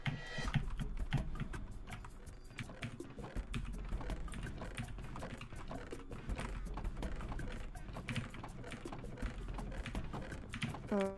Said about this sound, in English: Very intense clicking.